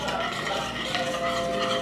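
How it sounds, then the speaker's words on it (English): Coconut oil being stirred into a gingerbread mixture in a bowl, a steady close scraping and swishing that runs continuously with faint clinks of utensil against the dish. "you want to stir it through until it melts"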